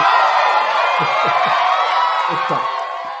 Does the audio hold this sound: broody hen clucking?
no